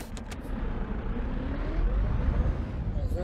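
A truck engine idling in a video game, a steady low rumble that holds on evenly throughout, loud and close, with a faint trace of voice.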